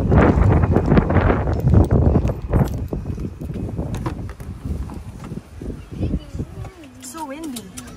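Gusty outdoor wind buffets the microphone with heavy low rumbling bursts, strongest early on, while people talk nearby and a high whistling voice is heard near the end.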